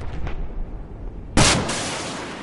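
Gunfire in Battlefield 4: a single sharp, loud shot cracks out after a quiet stretch and leaves a long, decaying rumble behind it.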